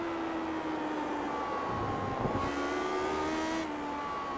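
Classic Lotus Grand Prix race car engines at the Indianapolis GP circuit in iRacing, a loud continuous high-pitched engine whine rising and falling as cars rev and pass, with layered tones from several cars close by.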